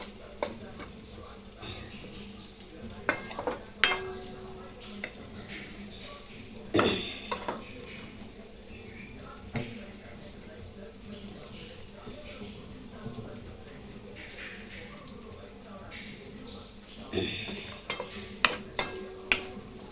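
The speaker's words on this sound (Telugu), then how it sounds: "చిన్న సెగ మీద సిమ్లో పెట్టేసి ఫ్రై చేయాలన్నమాట" Food frying in oil over a low flame, with spice powder, onion, cumin and chana dal, gives a soft steady sizzle. A spoon clinks against the pan now and then, and a person talks at times.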